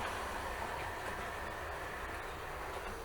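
A camera-carrying train on a model railway runs continuously along its track with a steady mechanical rumble and light clatter. The sound is fairly quiet and close, and nobody talks over it.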